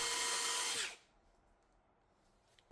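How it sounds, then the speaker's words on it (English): A power drill spins in reverse to back a screw out of a miter saw throat plate. It gives a loud, close, high whine for under a second, then cuts off into near silence. "you have the drill in reverse, and then you back it out the same way."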